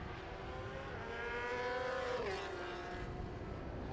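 The STG Honda superbike screams past in an ASB1000 race, its high-revving engine a continuous buzzing whine that peaks and drops in pitch as it passes close by.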